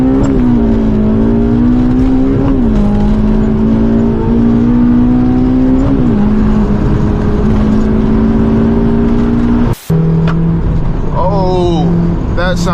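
A loud Honda S2000 drives hard along winding back roads, its engine droning and rising and falling through revs with shifts, heard from inside the car with a brief dropout near the end and a voice talking at times.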